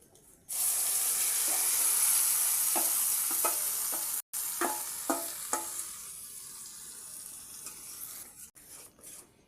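Spinach paste cooks in a pan with a sustained sizzle, broken by a run of spatula scrapes and taps as it is stirred slowly, then a quieter bubbling hiss.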